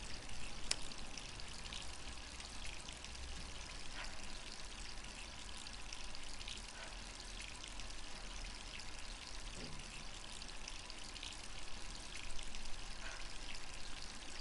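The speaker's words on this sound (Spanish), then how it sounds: "Cerrar el grifo" Steady running water from a tap in the Resident Evil 3 Remake game, a continuous close hiss of pouring flow with no talk.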